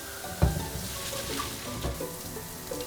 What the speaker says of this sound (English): The potatoes cooked, so we're just gonna drain it.